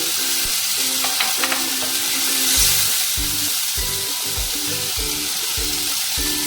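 Ginger paste, green chilli and chopped tomato sizzling in hot oil for a Bengali fish curry, a steady loud frying hiss with repeated rhythmic stirring scrapes, close up and without talk.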